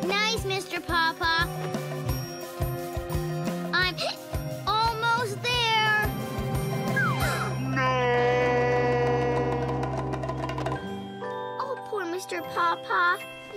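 A toy cat meows in a Little People children's cartoon among a busy soundtrack of music, chimes and bright effects, with child-like voices speaking throughout.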